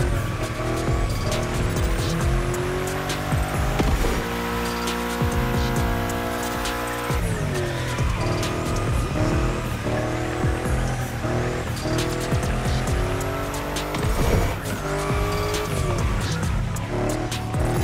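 A car drifting through bends in The Crew Motorfest racing game, a loud revving engine rising and falling with gear shifts over continuous wailing tire squeal, sustained throughout with no talk.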